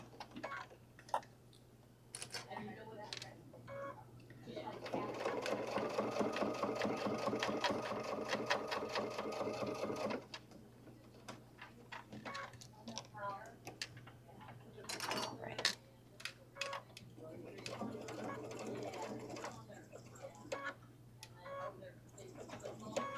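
A sewing machine stitches a Julie Bag made of thick, stiff material, running in two rapid, sustained bursts separated by pauses with scattered handling clicks, while a person talks quietly nearby.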